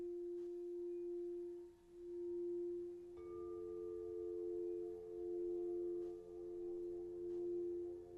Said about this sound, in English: I chose heart chakra tones today